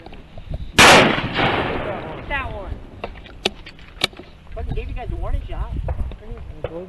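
A loud shotgun blast rings out during a duck hunt, one sharp report followed by a long echoing decay, then a couple of fainter distant shots, with hunters talking and calling throughout.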